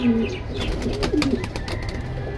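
Red-patterned military pigeons held for sale at a loft in Kalindi, Keraniganj, Dhaka, give soft low cooing calls, a few murmured coos close by over a steady background hum.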